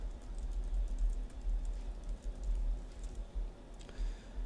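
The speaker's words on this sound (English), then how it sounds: "I'm just gonna type out the example." Steady typing on a computer keyboard, a continuous run of quick, soft key clicks over a low background hum, with no voices.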